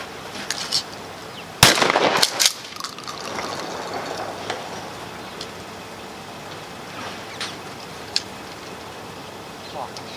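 Shotgun blasts during a pigeon hunting tournament: one loud sharp report near two seconds, then a second weaker shot, with faint distant pops and outdoor noise around them.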